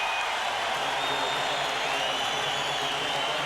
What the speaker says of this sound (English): The crowd really bought into this game on that play.